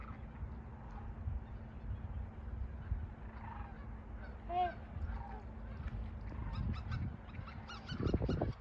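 Wild swans calling at a migratory bird sanctuary in Fairbanks, Alaska: a few clear honking calls ring out near the middle, with more calls toward the end over steady background noise and low rumble.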